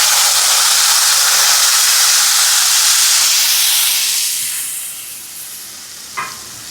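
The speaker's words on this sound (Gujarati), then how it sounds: "અને આપણી પાસે જે ગ્રેવી તૈયાર કરેલી છે ગ્રેવીને નાખી." Prepared gravy is poured into a hot pan with cumin seeds for Jain kadai paneer and bursts into a loud, close sizzle and hiss. The sound fades over a few seconds, then a brief clink follows.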